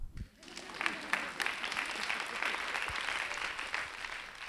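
A lecture audience at the Singapore Writers Festival breaks into a round of applause, a dense, even wash of clapping that holds for several seconds, heard from within the hall.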